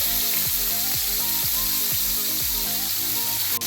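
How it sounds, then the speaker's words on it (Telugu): Chicken frying in oil on a tawa gives a steady, dense sizzle throughout, heard close and loud beneath rhythmic background music. "అటు 5 నిమిషాలు ఇటు 5 నిమిషాలు ఫ్రై చేసుకుందామండి."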